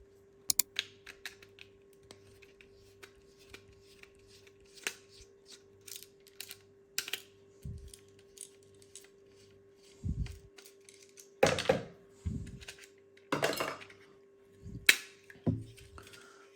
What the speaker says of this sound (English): We'll take these screws out in the middle.